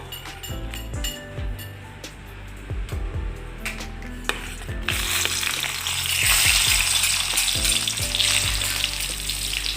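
Green chillies dropped into hot coconut oil for a Kerala chammanthi, first a few clinks and stirs against the pan, then a loud, close sizzle that swells and holds steady as the frying takes off.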